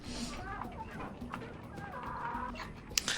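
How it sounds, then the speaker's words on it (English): Hens clucking in the video game Summoner, a busy mix of short game clucks and fowl calls running steadily under background game audio, with a sharper peck-like hit near the end. "I actually love the sound effects that the chickens produce"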